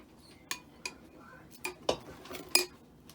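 A ladle clinks against a mixing bowl while cake batter for Easter bunny cupcakes is portioned out, giving several sharp, separate metallic taps spread over a few seconds at moderate loudness.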